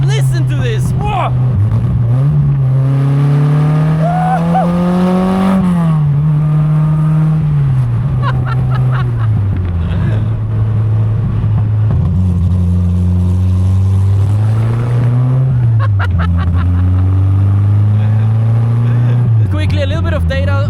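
A 1968 Ginetta G4 sports car of about 140 horsepower and 550 kilograms with a five-speed gearbox, its engine droning loudly and close, rising and falling through revs and gear changes across the whole stretch, with a voice talking over it.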